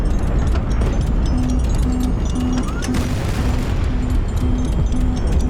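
Heavy cannon fire in the naval combat game HighFleet, a dense rumble of booms and bursts with a steady pulsing alarm tone repeating over it.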